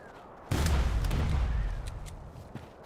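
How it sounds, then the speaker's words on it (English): A single loud grenade blast in a free Mac multiplayer shooter game, close and booming, with a rumbling tail that fades over about two seconds. "Throwing grenade."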